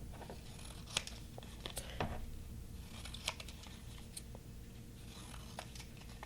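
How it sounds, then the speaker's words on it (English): Scissors cutting paper ephemera for a junk journal, a series of faint, close snips and crisp rustles with short pauses between cuts. "I like the sound of the scissors."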